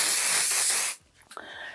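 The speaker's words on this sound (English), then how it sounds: "I'm gonna give it a little spray" Spray bottle misting a dog's coat from about a foot away, one sustained hissing burst lasting about a second, then a brief quiet and a small click.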